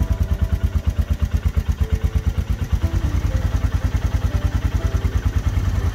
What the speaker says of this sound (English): Start the engine and leave running for 10 minutes checking for any leaks.